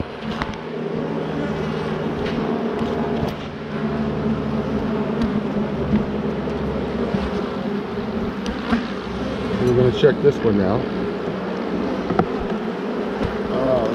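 A steady hum of honeybees surrounds an active hive during a spring inspection, with wingbeats rising nearer toward the end while someone speaks briefly over the buzzing.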